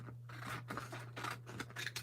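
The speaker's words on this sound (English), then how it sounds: "So let's cut them apart." Scissors snip apart foiled paper cards in quick, close, crisp cuts, several short slices in a row at low volume.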